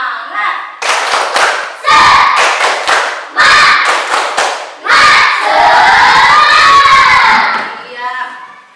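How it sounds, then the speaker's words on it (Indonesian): A classroom of children performs a rhythmic spirit clap, loud bursts of clapping mixed with excited group chanting and shouting, repeated in several quick rounds close by. "ayo kita tepuk semangat dulu. Tepuk semangat."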